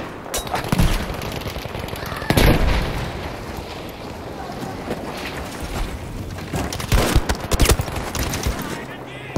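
Gunfire and explosions in the shooter game Battlefield V: rapid bursts of automatic fire, sharp shots and heavy booms arrive in clusters, loud and close, with voices talking over the combat.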